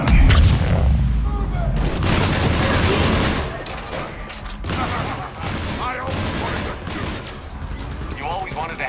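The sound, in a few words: gunfire in a firefight, from the video game Mass Effect 3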